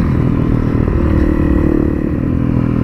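A Honda CRF250L motorcycle engine drones steadily and loudly while cornering on a winding road, a constant close hum with wind noise and no speech.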